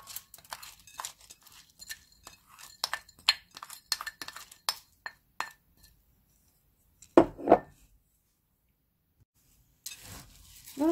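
Grains for five-grain rice (glutinous rice, millet, sorghum, red beans, black beans) being mixed make a rapid run of close clinks and rattles against a bowl, then two louder stirring bursts after a pause and another brief one at the end, with no speech.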